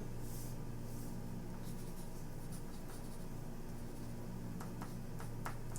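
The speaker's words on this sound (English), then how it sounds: "I just need to write it down" A pen scratches steadily on paper in short strokes at close range, over a constant low hum in a quiet medical-intake setting.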